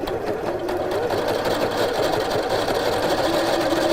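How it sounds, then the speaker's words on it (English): Sewing machine running a long stitch with raised tension while sewing rows of shirring elastic, a steady continuous mechanical whirr at close range with no pauses. "Okay, so tension is up, stitch is long, and then we'll sew some stitches."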